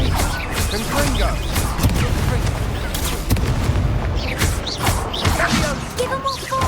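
The Confringo explosion spell in the Hogwarts Legacy video game goes off amid a dense battle mix of repeated blasts, crashes and spell effects, with a character's voice and game sounds layered throughout.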